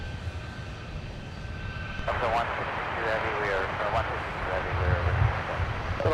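A Boeing 757-200 jet rumbles past at Minneapolis–Saint Paul airport, its broad engine roar swelling midway and staying steady, with a voice talking over the noise.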